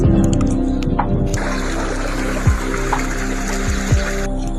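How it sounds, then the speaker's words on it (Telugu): Rainwater runs steadily through a field in a continuous rushing, gurgling flow, with a few faint knocks and a mechanical hum underneath. "వర్షం పడితే ఫుల్ నీళ్ళు పోతున్నాయి"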